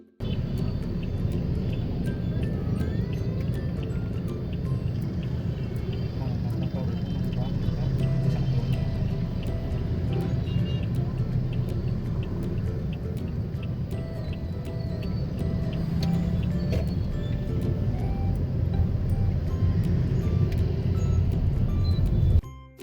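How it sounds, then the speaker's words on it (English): City street traffic in Hue, Vietnam, a dense continuous rumble of motorbikes and cars close by, steady throughout with occasional horn-like tones, and voices talking over it. "Before you know it, we're back in the city traffic and ready to wrap up the day."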